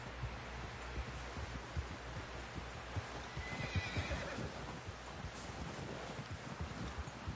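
A horse in Red Dead Redemption 2 gives a faint neigh over a steady run of hoofbeats, with soft rustling and wind around it.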